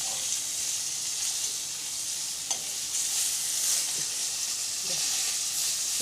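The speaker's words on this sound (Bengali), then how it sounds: "নিয়ে একটু করে কড়াইতে ছেড়ে দিলাম" Folded leaf pieces fry in oil in a kadai, giving a steady, dense sizzle that holds without a break, with a few faint stirring ticks and no voices.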